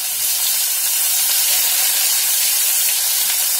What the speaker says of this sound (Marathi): परतून घ्यायचा लसूण मस्त.